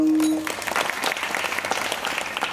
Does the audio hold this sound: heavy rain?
no